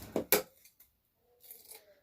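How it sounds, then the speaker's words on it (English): Two quick, close scissor snips cut through wreath-making material, followed by faint rustling of the material being handled. "I'm going to stop on this one and cut this off"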